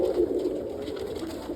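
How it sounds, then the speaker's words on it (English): Roller and short-faced tumbler pigeons coo softly in a crowded loft, making a continuous low murmur of overlapping calls that sound close. "there's also a lot of birds in here"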